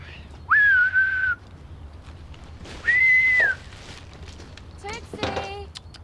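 A person whistles to call a dog, producing two clear sustained whistle notes about two seconds apart, followed by faint footsteps and a brief bit of speech.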